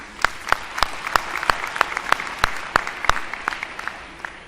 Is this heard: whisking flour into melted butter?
no